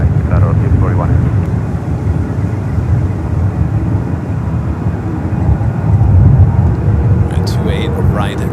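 Jet airliner at San Francisco airport rumbling steadily across the whole stretch, a broad low roar swelling slightly near the end, with radio and talk faintly layered over it.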